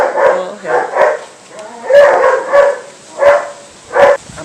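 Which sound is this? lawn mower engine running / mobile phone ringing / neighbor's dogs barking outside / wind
neighbor's dogs barking outside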